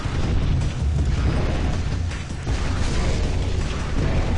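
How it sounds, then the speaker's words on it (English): A rocket launcher fires in a video game, a loud, sustained explosive roar with heavy low rumble that barely dips midway before swelling again, with no talk over it. "Let's get the rocket launcher."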